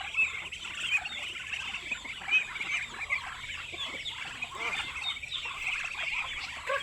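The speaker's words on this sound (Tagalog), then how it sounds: "magpapakain ako ng aking mga alagang pato, pabo, manok" Farm poultry at feeding time, with pet ducks, turkeys and chickens clucking and chattering together, a busy continuous flock sound close by with overlapping calls and no speech.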